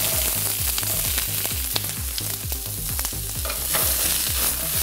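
Onions and peppers frying in oil in a large pan while lamb is being braised, a steady loud sizzle with repeated rhythmic stirring strokes and scrapes throughout, no voices.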